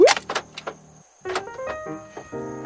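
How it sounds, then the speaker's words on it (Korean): Two sets of mechanical clunks and whirs from second-generation Toyota Prius door locks, a quick actuation, a short pause, then another, heard close in a quiet space. "제대로 들어갔으면 이게 잠겼다가 풀렸다가 한 번을 반복을 하게 됩니다"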